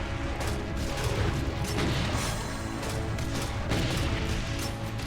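Continuous grenade launcher fire and explosions in the video game Doom, a dense, loud barrage of repeated blasts and crashes with no pauses.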